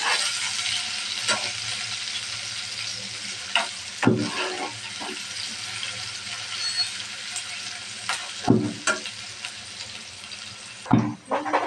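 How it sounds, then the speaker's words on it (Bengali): Chopped onion and sliced chili fry in oil in a pan for egg noodles, a constant close sizzle punctuated by several louder scraping stirs of a spatula. "পেঁয়াজটা আমি ভালোভাবে ভেজে নেব।"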